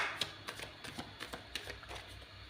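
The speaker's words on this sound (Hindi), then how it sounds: "मुझे इसे दोबारा से शफल करना, अच्छे से शफल करके" Tarot cards are shuffled by hand in quiet, soft riffling bursts, faint and close, with light irregular slaps repeating over a couple of seconds and no talking.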